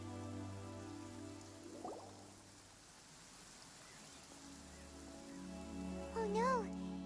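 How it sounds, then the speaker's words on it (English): Rain falls in the video game Genshin Impact as a soft, steady hiss with faint low hum and brief tonal chirps near the end. "Obviously it starts raining right as we reach the pool."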